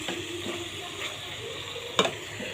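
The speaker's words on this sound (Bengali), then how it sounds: "হয়ে গেল আমার সিম ভাজিটা" Flat beans (sheem bhaji) frying in a home pan, a soft steady sizzle with faint stirring and one sharp clink of the utensil against the pan.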